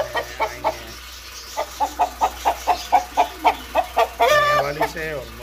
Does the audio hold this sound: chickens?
yes